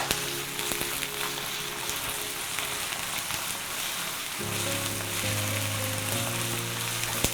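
Oysters sizzling in a pan for a grandmother's spicy sundubu jjigae, a soft tofu stew: a quiet, continuous crackling hiss of hot oil with a faint steady hum underneath, no talk.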